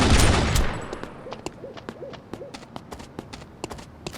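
Gunfire in a video game: one loud burst at the start, followed by a run of sharp, evenly spaced single shots with hooting tones between them, and no one talking.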